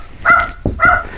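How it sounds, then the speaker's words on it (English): A dog gives two quick close barks about half a second apart, sharp and fairly loud with nothing else around them. "That's the dog, of course."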